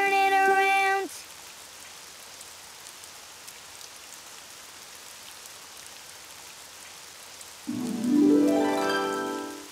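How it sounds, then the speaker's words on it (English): Rain falls steadily outside, a soft continuous hiss between short bursts of musical tones at the start and end of an animated children's show. "Oh, it's raining outside."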